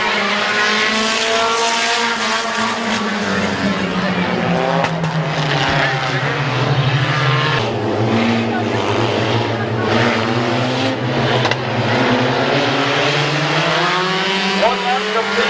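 Race cars lap Midvale Speedway, engines droning loud and continuous as they slow on the back straightaway, pitch sliding down and back up, with an announcer talking over the roar throughout.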